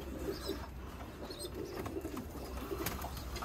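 Roller pigeons coo softly in their loft, low murmuring calls repeating over a steady hum of background noise, with faint chirps and rustles from the birds nearby.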